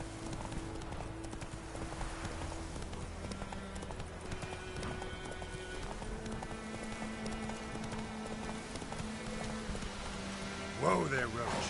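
The horse Roach from The Witcher 3 clip-clopping steadily along under game music, a light rhythmic hoof pattern, with a short snort or whinny near the end.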